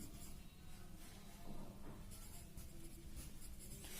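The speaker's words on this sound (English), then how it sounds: "So I am writing number 5 sentence." Continuous quiet scratching of writing during an English grammar lesson, a steady close rubbing texture with no voices over it.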